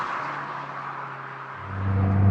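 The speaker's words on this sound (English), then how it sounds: "The sound of this car is more traditional turbocharged four-cylinder. It has a drone to it." Turbocharged four-cylinder Ford Focus engine droning steadily from inside the cabin while driving, a low continuous hum that swells louder near the end as the car pulls harder.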